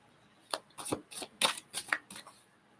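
Tarot cards are shuffled by hand in a run of about eight crisp, quick riffling bursts, close and fairly quiet, with no speech over them.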